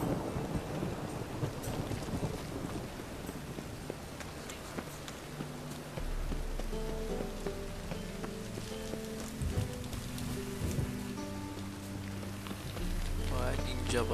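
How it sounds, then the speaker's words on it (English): Rain patters steadily in The Witcher 3 video game, a faint continuous hiss of falling rain with low rumbles of thunder, while game characters talk quietly over it. "چه بارونی میباره."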